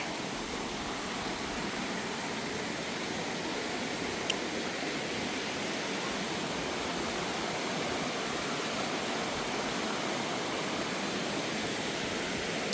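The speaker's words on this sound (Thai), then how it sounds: "ตอนนี้เห็นน้ำตกแล้วนะคะนี่ ก็สูงนะ ไหลแรงด้วย" Leke Leke waterfall in Bali, swollen after rain with brown water, pours down in a steady, broadband roar that stays loud and unbroken throughout, with no voices over it.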